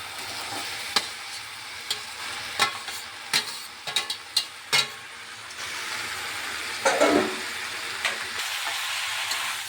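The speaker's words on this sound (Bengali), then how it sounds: "ভালোভাবে সবজিগুলো মিশিয়ে দিচ্ছি মশলার সাথে, আর একটু কষিয়ে নিচ্ছি" Winter vegetables stir-fried with spices in a pan give a steady close sizzle, punctuated by several sharp scrapes and knocks of a spatula stirring against the pan.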